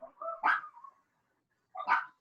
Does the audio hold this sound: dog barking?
yes